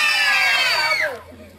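An audience at a child's first birthday party lets out a loud, rising-then-falling shout together, trailing off after about a second into quieter room noise.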